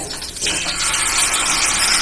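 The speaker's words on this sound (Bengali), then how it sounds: "তেলটা গরম হয়ে গেছে আমি দিয়ে দিচ্ছি এই কড়াইশুটির পেস্টটা" Green pea paste hitting hot mustard oil in a wok: after a brief quieter moment, a loud, sustained bright hiss and sizzle erupts and holds steady.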